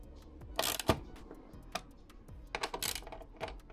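Radiator guard bolts on a Honda CB1000 Hornet motorcycle being tightened with a torque wrench, a few close sharp ratchet clicks and metallic ticks in short bursts, quiet and without talk.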